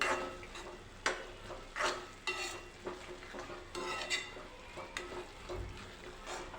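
A spoon stirs dudhi halwa, a grated bottle-gourd sweet, as ghee-fried cashews, almonds and raisins are mixed in, producing soft scraping strokes over a faint sizzle in a pan, close and steady.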